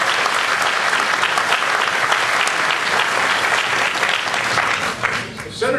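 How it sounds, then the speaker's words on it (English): Loud, sustained applause from a gala audience for Senator Bucco, a dense roar of many hands clapping close by that continues steadily and then starts to fade near the end. "So I'd like to give a round of applause to Senator Bucco"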